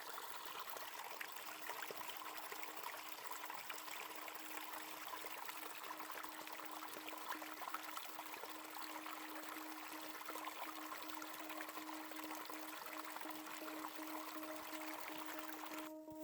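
Creek water trickles and runs steadily in Shawnee National Forest, Illinois, a soft continuous wash of flowing water with no voices, holding an even level throughout.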